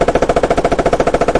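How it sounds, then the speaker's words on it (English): Rapid sustained burst from an M240 coaxial machine gun on an Abrams tank in the Squad video game, loud and close, with a steady even rhythm of about ten rounds per second throughout. "We're gonna switch to your secondary, which is gonna be your 240"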